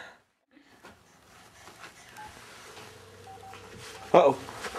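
A baby presses buttons on a telephone keypad, giving a few faint dialing beeps and then one loud tone near the end, with adults talking nearby.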